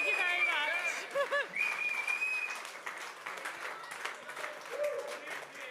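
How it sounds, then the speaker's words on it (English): A live audience at a rugby show gives a round of applause, steady clapping under a host's talking and some laughter, fading slightly toward the end. "Of course, big round of applause"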